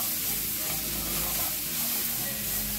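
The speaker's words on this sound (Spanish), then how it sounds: "Vamos a hacer que se sofría la cebolla y vamos a echar un poquito de pimiento." Onion and a little pepper sauté in a hot pan, giving a steady, close sizzle with a fine hiss and soft crackles. It runs evenly throughout with no talking.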